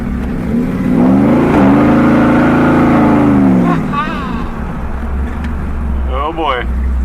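A 1949 Chevy pickup with a 610 hp 427 LS-3 V8 and 4L80E transmission accelerates hard, the engine climbing loudly through a long pull, then easing back to a lower rumble, with people talking over it.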